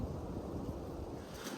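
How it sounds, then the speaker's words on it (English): Wind blowing across open dunes and oak savanna at Tolleston Dunes, a steady, loud rush buffeting the microphone throughout, with no voices. "It is pretty windy today."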